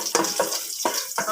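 Garlic and onion sizzling in hot cooking oil in a pan while a spoon stirs them, cooking outdoors on a farm; a soft frying hiss broken by several distinct scraping stir strokes.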